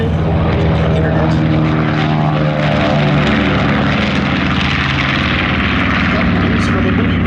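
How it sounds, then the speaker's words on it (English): Newsreel sound of a loaded bomber taking off from an aircraft carrier, a loud, continuous propeller engine roar with a throbbing low drone that holds steady throughout. "Doolittle's plane is first down the runway."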